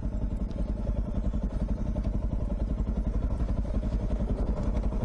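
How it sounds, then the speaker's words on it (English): A motorcycle descending a steep, sketchy cliff-like slope with its back wheel skidding, heard as a loud, rough, continuous engine chug with clattering and thumping throughout. "back wheel skidding"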